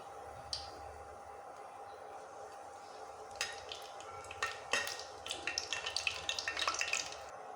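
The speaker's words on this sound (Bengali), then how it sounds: "সামান্য কালো জিরা, ফ্রেশ সাদা জিরা দিয়ে ফোড়নটা একটু ভালো করে ভেজে নেব" Black and white cumin seeds frying in hot oil for tempering, starting as a quiet steady sizzle that breaks into sharper crackling pops growing busier toward the end.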